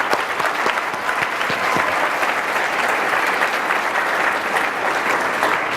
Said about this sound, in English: Everybody give a round of applause for Miss Angie.